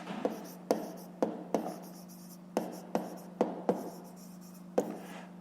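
Pen strokes and taps on paper while math answers are written out by hand, a series of about ten sharp, close scratching contacts spaced irregularly over a low steady hum, no voice.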